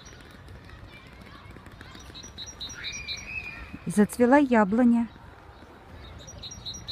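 Birds chirp and tweet steadily in the background while a person speaks briefly in the foreground outdoors.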